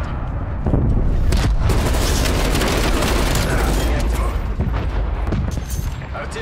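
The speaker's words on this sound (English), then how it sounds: "Artillery inbound." Artillery strikes in the shooter game Black Ops Cold War, a loud, dense barrage of booming blasts that rumbles on for several seconds, with a voice speaking over it.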